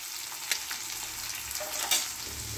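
Mixed vegetables and mung dal with salt and turmeric fry and sizzle in a pan with a steady hiss, while occasional clicks and scrapes of stirring sound close by, with no talking.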